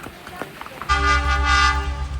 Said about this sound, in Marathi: आली आली आगीन गाडी आली.